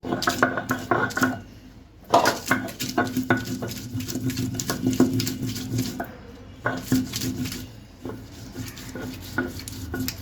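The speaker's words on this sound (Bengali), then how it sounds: "হাফ কিলো চিংড়ি মাছ বাটার জন্য ঠিক এক মুঠো কাঁচামরিচ আমি এখন বেটে নিচ্ছি" A handful of green chilies is ground into a paste on a stone for shrimp kebab, giving rhythmic scraping and knocking strokes in quick repeated bursts with short pauses, close and fairly loud.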